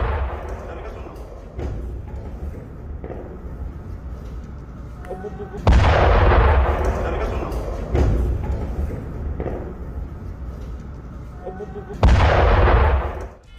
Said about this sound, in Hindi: कैसे इजरायल की तरफ से यमन की राजधानी में हवाई हमलों को अंजाम दिया गया